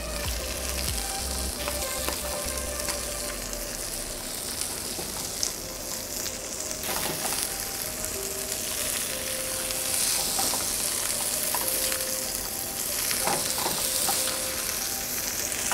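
Chicken breast fries in a pan, a constant close sizzle with occasional spatula clinks and light stirring, and no speech over it.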